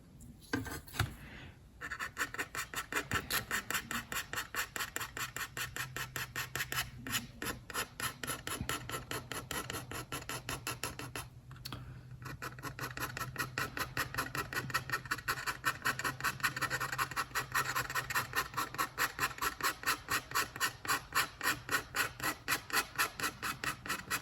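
Steel scraper rasping across a mezzotint copper plate in rapid, regular back-and-forth strokes, close and fairly quiet, with a couple of brief pauses and no talking.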